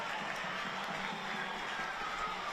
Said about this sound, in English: they give the home crowd something to cheer about